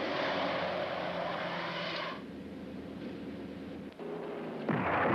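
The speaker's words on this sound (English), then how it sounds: "the artillery, using its missiles and medium and long-range guns under computer control, is destroying enemy infantry" British Army artillery, missiles with medium- and long-range guns, fires in a 1974 recruiting film: a loud, sustained roar of firing with heavy rumbling blasts, a brief dip, then a fresh burst of noise.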